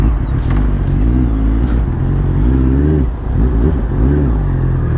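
A Honda CBR650R motorcycle ridden through a turn, its engine droning loud and close with rising and falling revs across the whole stretch, a short dip midway, and wind buffeting over the mic.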